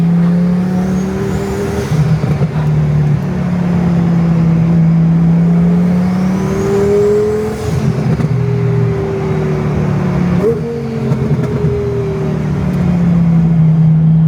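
A twin-turbo Lamborghini roars hard under acceleration, engine note climbing and shifting repeatedly across the run, loud and close with tire spin amid constant wind and road noise.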